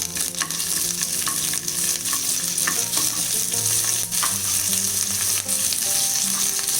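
Curry leaves sizzle in hot oil alongside darkening green chilies, a tempering for curd rice; steady loud frying crackle runs throughout with scattered pops and spatters, no talking.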